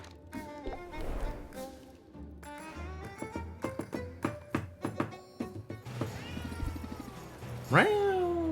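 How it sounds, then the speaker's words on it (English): A cat meows repeatedly in short, rhythmic calls over music, ending in one louder, drawn-out cry. "Just sitting here meowing along with the music."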